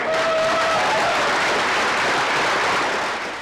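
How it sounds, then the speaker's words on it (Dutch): Wedding guests applaud a just-married couple at a ceremony held in a hospital, dense steady clapping that fills the room evenly and fades slightly at the end. "Jee, een applaus!"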